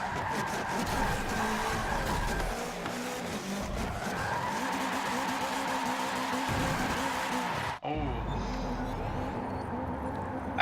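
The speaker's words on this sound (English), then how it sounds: "That's how you do a perfect drift." A 2016 Subaru WRX rally car, number 199, drifts in Forza Motorsport 7, with engine roar and tire skid running steadily throughout, cut by a sudden break near the end before the engine noise resumes.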